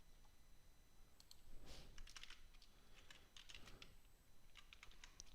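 Fingers type on a computer keyboard in soft, quiet bursts of rapid clicks separated by short pauses, close but low in level.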